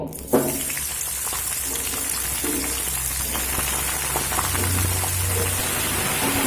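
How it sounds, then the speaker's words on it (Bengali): Cut cauliflower dropped into hot refined oil, raising a loud, dense, continuous sizzle like heavy rain that begins with a sharp hit and holds steady throughout. "তেল আমার গরম হয়ে গেছে এবার এখানে যে আমি ফুলকপি কেটে রেখেছি ফুলকপিগুলো দিয়ে দেব"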